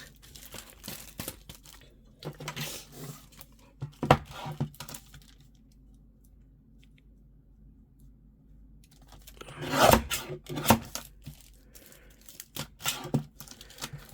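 A paper trimmer shaves the edge of an envelope with short crisp rasping and tearing strokes close by, in a few separate bursts with quiet pauses between them.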